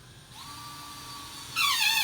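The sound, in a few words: power drill driving screws into drywall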